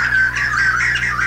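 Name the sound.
jay thrush pair duet song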